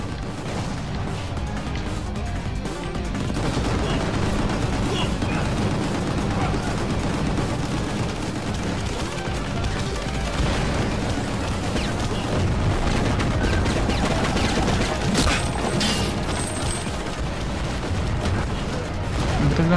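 Constant gunfire and crashing blasts from the video game Gungrave G.O.R.E as the character walks while shooting, a dense, loud, unbroken barrage of shots and impacts running throughout.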